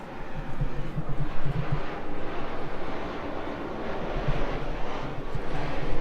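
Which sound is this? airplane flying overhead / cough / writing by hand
airplane flying overhead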